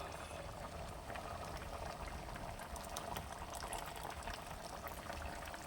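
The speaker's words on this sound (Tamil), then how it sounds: "இப்போ வந்து புளிக்கரைசலை ஊற்றலாம்." Tamarind extract is poured into a pot of brinjal gravy that is already boiling. Bubbling and sloshing liquid sounds run steadily and fairly quietly, close by, with no talking.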